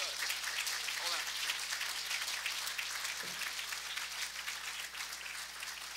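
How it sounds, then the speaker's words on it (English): Faint, continuous audience applause at a City Club of Chicago talk forms a hissing, rain-like patter over a low electrical hum, steady from start to finish. "I want a round of applause."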